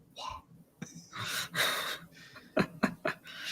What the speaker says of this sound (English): Just two different breathing noises.